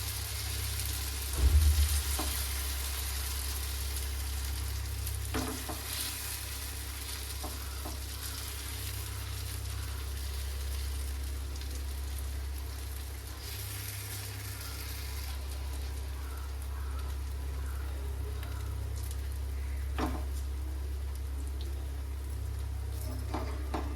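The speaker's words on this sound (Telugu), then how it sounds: "పెసరట్టు వేస్తున్నాను, మీరు చూడండి." Pesarattu, a thin green gram dosa batter, frying on a hot pan with a steady, soft continuous sizzle throughout, a low hum underneath and a few faint clicks, with no talking.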